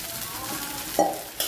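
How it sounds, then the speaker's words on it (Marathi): Steady frying sizzle of chopped coriander sautéing in a pan for spicy rice, with a couple of brief scraping stirs, close by, no voices. "कोथिंबीर छान परतून झालेली आहे"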